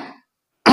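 A man clears his throat once, a short rough burst heard close and loud after a brief trailing sound and a moment of silence.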